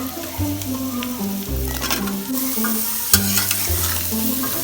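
Pumpkin pieces fry and get stirred in a small pan with salt and a pinch of turmeric during a children's play-cooking session, giving a steady close sizzle with scraping stir strokes and a low tonal hum underneath.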